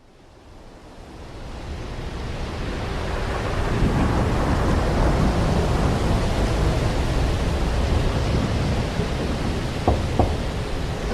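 Thunderstorm with heavy rain and a low rolling rumble of thunder, a dense wash of sound swelling over the first few seconds and then holding loud and steady.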